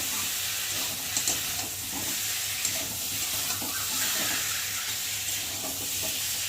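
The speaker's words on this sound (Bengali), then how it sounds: "একটা ভালো করে মশলাটাকে আলুর সাথে কষিয়ে নেব।" Spice paste and potatoes sizzle and fry in a pan, a steady hiss with soft stirring scrapes and small pops throughout, close and moderately loud.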